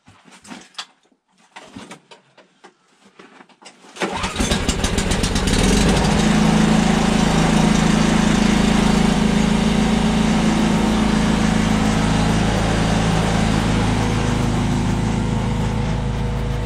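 A small engine, apparently on a lawn tractor or similar machine, sits quiet through a few faint knocks, then fires on a cold start at about four seconds and settles into a steady, loud, close idle that runs to the end.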